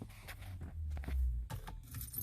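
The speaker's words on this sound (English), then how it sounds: "Let's see the key." Car keys for a 2003 Lexus GS300 jingle in a garage, a few light metallic rattles scattered over a low rumbling background, quiet and close with no speech.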